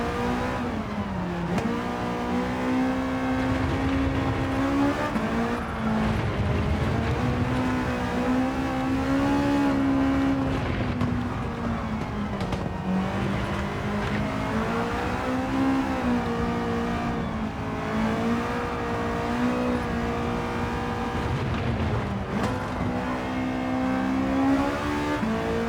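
Honda S2000 engine in Gran Turismo 7, droning steadily close-up as the car drives, pitch rising and falling with throttle through gear changes, loud and continuous without a break.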